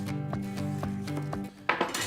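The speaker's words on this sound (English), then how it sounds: "So garlic, that we're just gonna cut right in half." A knife cutting a head of garlic in half on a cutting board, a few faint taps and clicks over a low background hum, ending in a sharper cut.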